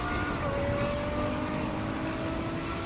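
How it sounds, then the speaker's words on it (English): A BMW M8, a Nissan GT-R and a Ferrari V12 accelerate side by side in a rolling race from 50 mph on a runway, making a continuous loud engine and wind roar that holds steady throughout. "Now we're going to do the same thing again, rolling race from 50 miles an hour."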